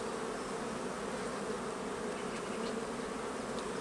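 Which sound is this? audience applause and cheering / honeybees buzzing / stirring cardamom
honeybees buzzing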